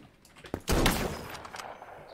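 Gunfire in a first-person shooter, a short loud burst of shots that rings out briefly and decays, with quieter game ambience around it.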